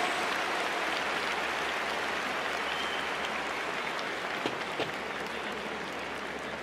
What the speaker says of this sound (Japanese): 今一度盛大な拍手をお送りください。